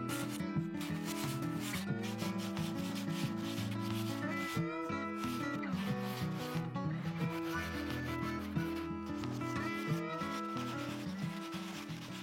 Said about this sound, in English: So as I'm sanding here, you're gonna have to watch out because there's a body line.